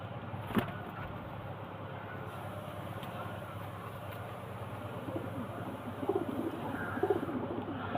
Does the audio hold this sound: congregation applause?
no